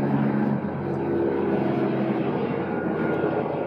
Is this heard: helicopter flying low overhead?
yes